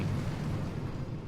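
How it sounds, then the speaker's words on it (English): Artillery fire in the mobile strategy game Boom Beach: a dense, continuous low rumble of explosions with no clear gaps between blasts. "Right, so an artillery."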